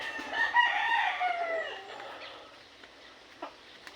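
A rooster crows loudly and close by in a backyard, its call rising and trailing off, followed by scattered soft clucks from chickens in a quiet yard.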